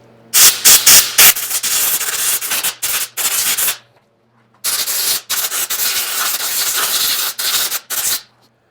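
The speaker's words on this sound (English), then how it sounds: "I'm gonna go ahead and just take some air, kind of blow any other grass, seed, debris, whatever might be still sitting up there." Compressed air blasting grass, seed and debris off a Hydro Gear mower transmission in loud close bursts, one long spray broken by short stops, a pause of silence, then another long stretch of blowing.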